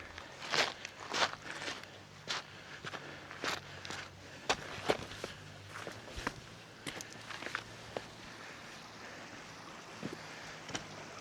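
Quiet crunching footsteps on loose, shifting rocks along a hiking trail below Bonita Falls at Lytle Creek, in irregular steps over a soft outdoor background.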